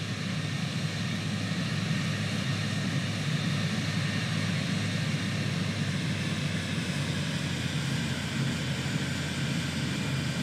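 A Cirrus Vision Jet G2 taxiing in Microsoft Flight Simulator 2020, a steady, unchanging jet engine hum and whine that holds at even loudness throughout.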